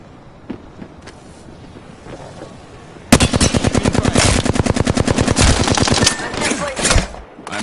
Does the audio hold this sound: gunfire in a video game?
yes